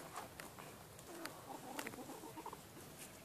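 Farmyard hens cluck softly as they peck about, scattered short clucks that stay faint and distant against a light outdoor background, with no one speaking.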